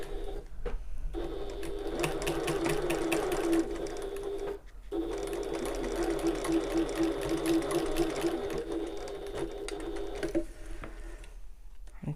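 A sewing machine stitches a fabric bag, whirring steadily in two long runs broken by a brief pause near the middle, close and loud with no talk.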